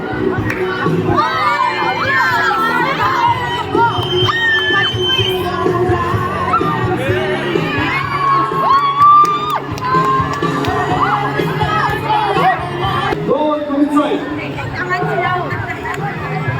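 Students at a school annual sports day shout and cheer through a tug-of-war final, producing a loud, continuous crowd roar with high children's yells and whoops, while adult voices call out over the noise.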